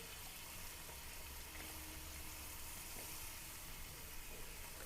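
Onions sizzle in a pan as a faint, even, continuous hiss, steady throughout with no voices.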